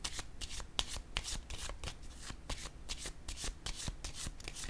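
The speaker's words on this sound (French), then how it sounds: "Je vais piger une carte." Deck of tarot cards being shuffled by hand, a rapid run of crisp riffling flutters and taps repeating in quick bursts, close and fairly soft, with no talking.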